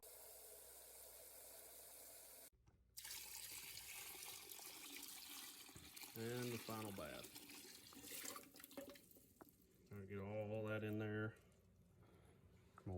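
Water runs steadily into a container for preserving eggs for several seconds, with a voice speaking briefly over the pour.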